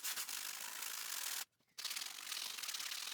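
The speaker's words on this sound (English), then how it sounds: "I sanded off the finish where the legs will be glued." Sandpaper rubs the finish off a wooden bench in quick repetitive scratchy strokes, close and steady, broken by a short silent pause midway before the sanding resumes.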